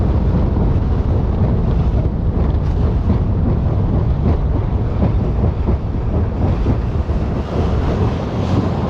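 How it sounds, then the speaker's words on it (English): Steady wind on Lake Guntersville during a cloudy August bass fishing outing, buffeting the microphone with a loud, continuous low rumble and rushing hiss that holds without pause throughout, with no talk over it. "It's a little windier, but nothing too bad."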